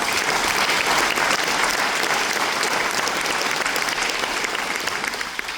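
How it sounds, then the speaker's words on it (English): Dense, sustained crowd applause at a Green Party political rally in Wakefield, loud and even throughout, with many hands blending into a continuous wash before easing slightly at the end. "we're not applauding Thatcher, we're applauding the acknowledgement of neoliberalism."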